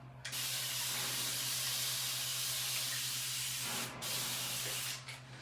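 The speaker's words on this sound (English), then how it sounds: "So I'm gonna take my spray bottle again." A hand spray bottle mists water onto natural hair in one long, steady hiss, then a brief pause and a couple of short final spritzes, all close and unaccompanied by talk.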